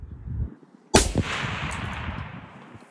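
An AR-15 rifle fires one sharp, loud shot with a long echoing decay, after a brief low rumble, outdoors at a shooting range.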